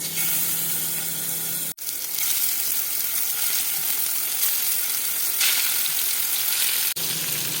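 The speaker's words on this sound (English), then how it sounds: "Heat olive oil on the pan. Pan is really hot. Add the turkey." Turkey pieces sear in very hot olive oil in a pan, giving a loud, continuous, close sizzle that briefly cuts out twice before roaring back, with no voices.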